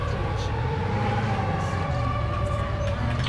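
Police sirens in the video game ARMA 3 wail steadily and loudly throughout, a continuous layered tone with a dense low engine-like rumble beneath it.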